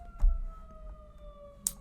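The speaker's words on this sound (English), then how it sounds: "And then you would need an ambulance, as you might be hearing in the background." Distant ambulance siren in the background, a faint steady wailing tone that holds throughout, with a couple of soft thumps and no talking.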